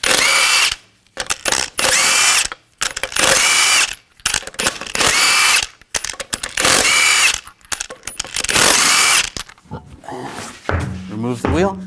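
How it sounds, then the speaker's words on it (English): An impact tool in bursts of several seconds each whirs and rattles as lug nuts are spun off a 2014-2018 GMC Sierra 1500 wheel with a 22mm socket, with short gaps between the bursts and a clunk of parts near the end. "Use a 22mm socket to take the lug nuts off."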